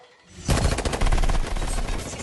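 A rapid burst of gunfire from a film scene erupts after a brief quiet, loud and dense, with shots rattling in quick succession.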